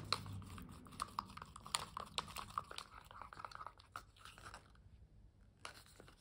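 Acrylic paint being stirred with pouring medium in a cup, giving a run of small scraping, clicking taps at an irregular rhythm. The sound is close and fairly faint, with no voices.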